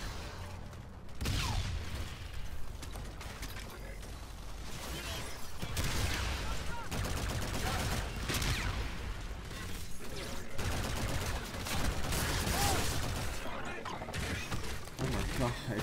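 Heavy cannon fire in a Call of Duty: Infinite Warfare campaign mission, with repeated loud booming blasts and mechanical clatter in dense, continuous bursts, sustained and close, over a busy battle din.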